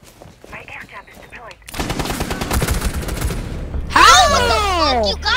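Rapid automatic gunfire rattles in Rainbow Six Siege, loud and continuous, joined by shrill high-pitched yelling from players as the burst goes on.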